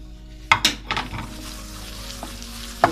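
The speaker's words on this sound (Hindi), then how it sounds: "लहसुन अदरक को भी अच्छे से मिक्स करना है।" Minced meat for chapli kabab being mixed with garlic and ginger, heard as a few sharp clinks and scrapes of a utensil against a bowl over a quiet background.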